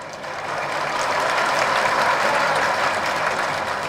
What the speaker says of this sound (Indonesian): Kalau ikut amnesti pajak silakan tepuk tangan.